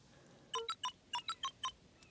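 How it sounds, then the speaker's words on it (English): Keypad tones sound as letters are entered in the video game Beacon Pines: seven quick electronic beeps in an uneven run, clean and clear over near silence, then one faint extra blip. "Luca cracked his knuckles and entered the letters into the keypad."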